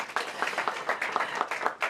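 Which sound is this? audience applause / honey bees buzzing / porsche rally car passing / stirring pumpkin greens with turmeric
audience applause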